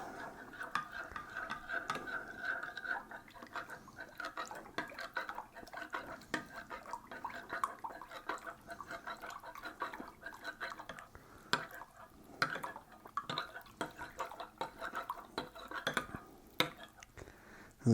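Thickener is stirred into pulled pork inside an electric pressure cooker, with a utensil clinking and scraping against the pot over wet sloshing and dripping, fairly close and steady.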